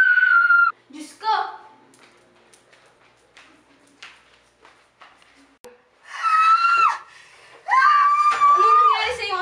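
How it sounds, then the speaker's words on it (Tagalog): Woman screaming in a short dramatic scene, high strained cries in several loud bursts separated by quieter stretches with small rustling sounds. "Ano ba siya sumisigaw?"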